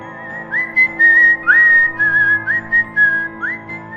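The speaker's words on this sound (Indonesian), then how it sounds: "Salah satu ciri bahwa hantu ini mendekat adalah dari suara siulannya." Eerie whistling attributed to the Whistling Man ghost, a series of short rising and sliding whistled notes repeated about six times, clear and close over a low steady background drone.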